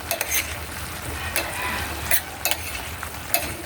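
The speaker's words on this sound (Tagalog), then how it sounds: "At haluin po na mabuti po mga idol." Native chicken sizzles and fries in a pan while being stirred, a steady frying hiss broken by several scraping stirs across the pan, close and fairly loud with no talking.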